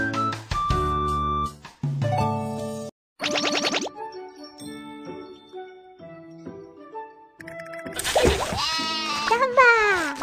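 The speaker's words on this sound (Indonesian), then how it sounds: "Domba." Sheep bleating in a few short, loud calls scattered among cartoon-style tinkling chimes and musical tones, with a wavering bleat near the end.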